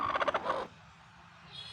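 Hens clucking loudly in a short burst of harsh, rapid squawks, close by, then dropping to near quiet.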